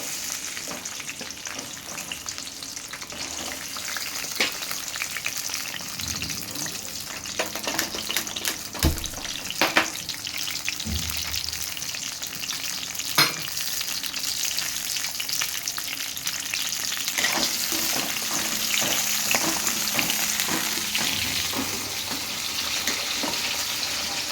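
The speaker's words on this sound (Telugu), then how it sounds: "దొండకాయ ఫ్రై చేసుకోండి." Ivy gourd frying in a pan gives a steady, loud sizzle that builds slightly over time, with occasional scrapes and knocks from stirring and no voices.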